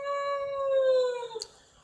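A voice imitates a sad whale, drawing out one long, sliding, mournful howl that fades and breaks off near the end, close and fairly loud with no other sounds around it.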